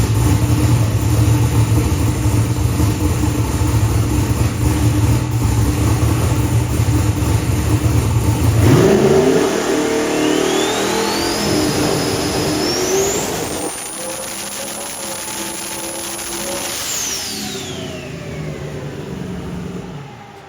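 A turbocharged small-block Ford engine on a dyno, loud and close, droning steadily before surging in a hard rev with a rising turbo whistle, then easing off as the whine fades.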